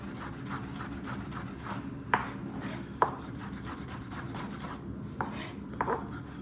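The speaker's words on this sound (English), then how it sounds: "I'm just gonna finely chop this as well" Ingredients for a pasta sauce being finely chopped with a knife on a board, a steady run of soft dull taps with a few sharper knocks standing out, close and alone without talk.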